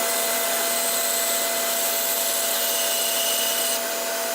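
A wooden workpiece being cut for a painter's pyramid, a steady, even rasping tool noise with a faint high whine, close and unbroken, with no speech.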